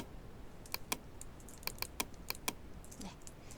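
Computer keyboard keys pressed during Photoshop work for a Ctrl C copy, a quiet sequence of about ten sharp, crisp clicks in irregular rhythm, close and faint.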